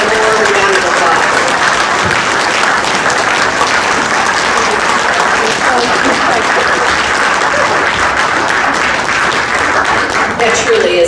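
A room full of people applauds at a small-town business grant announcement, loud dense clapping that holds steady for several seconds with faint crowd murmur mixed in.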